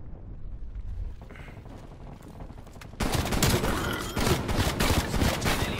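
Rapid bursts of automatic gunfire in a shooter video game, quieter and scattered at first, then suddenly loud and dense halfway through, continuing as sustained fusillade to the end.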